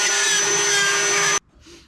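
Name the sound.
Ryobi power tool plunging hole into drywall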